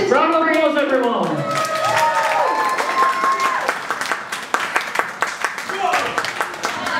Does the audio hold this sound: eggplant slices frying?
no